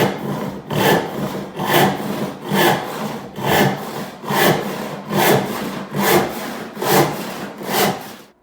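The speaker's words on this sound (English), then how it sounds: "I can put that back in the vise and saw the second taper" Hand saw cutting a taper on a wooden table leg clamped in a vise, nine steady back-and-forth rasping strokes in an even rhythm, close and loud.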